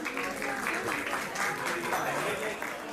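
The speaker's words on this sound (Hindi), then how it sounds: "एक बार जोरदार तालियां हो जाए मेरे सभी चाचाओं के लिए" Audience applause at a school annual function, a steady dense wash of clapping from a crowd heard from a distance and fairly faint, with voices beneath.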